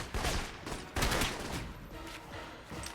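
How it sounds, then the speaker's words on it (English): Bursts of rapid gunfire in the video game Alpha Protocol crackle and rattle in quick volleys, sharp and sustained, with brief gaps between the barrages. "It's hard to hear you over the sound of gunfire"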